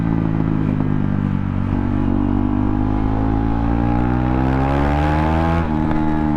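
A KTM Duke motorcycle fitted with a loud aftermarket exhaust revs up steadily, the engine note climbing in pitch over several seconds, close and loud with no talking.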